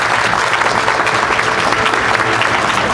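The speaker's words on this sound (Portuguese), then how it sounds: "Uma salva de palmas para Evelyn." A church congregation claps after a baptism, a loud, dense and steady round of applause from many people, continuing unbroken through the moment.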